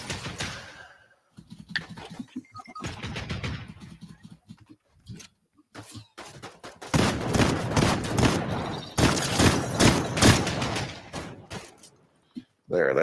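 Bursts of gunfire from the video game Fortnite, aimed at metal, crackle in rapid volleys that grow louder and denser partway through, with short pauses between them and other game sounds mixed in.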